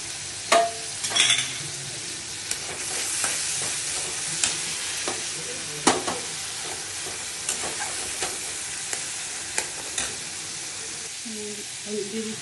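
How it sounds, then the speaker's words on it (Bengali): Ginger and green chili paste frying in a pan, with a steady low sizzle broken by sharp clinks and scrapes of stirring, then faint brief talk near the end. "আদা আর কাঁচা লঙ্কা পেস্টটাও দিয়ে দিচ্ছি।"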